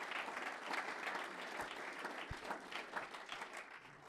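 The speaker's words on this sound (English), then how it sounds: "give a round of applause for Blake" An audience applauds steadily after a guest named Blake is introduced at a business talk on exponential growth, a dense even clapping that holds for the whole stretch without voices over it.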